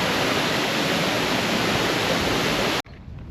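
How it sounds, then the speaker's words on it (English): A waterfall in the Kimberley countryside roars as a dense, steady wash of broadband noise, loud and unbroken for nearly three seconds before the sound cuts away abruptly. "This water, it's magic for the waterfalls around here in the countryside."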